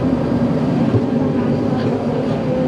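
A passenger train bound for Machu Picchu rumbles with a steady low hum and rolling wheel noise heard from inside the carriage, constant and fairly loud throughout.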